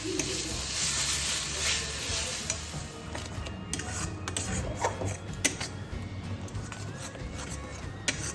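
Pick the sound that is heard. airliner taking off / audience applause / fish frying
fish frying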